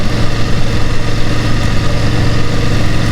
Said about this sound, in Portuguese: E a BMW também, ela tem um motor mais ruidoso, pelo menos essa 750, 850, que é o mesmo motor